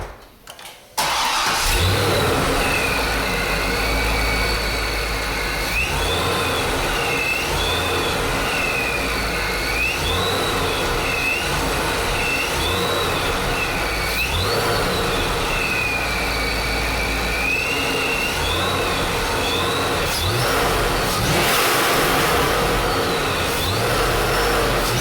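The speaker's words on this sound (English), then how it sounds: "let's go outside and see if we can hear those two sounds" A 600 HP supercharged C5 Corvette engine fires up with a sharp start, then holds a loud, steady roar with rising and falling revs and a whining supercharger tone, close by and without talk.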